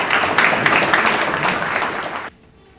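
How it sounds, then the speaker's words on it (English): An audience at a fall annual meeting applauds new commissioners, dense steady clapping for about two seconds that stops abruptly into near silence. "A little round of applause."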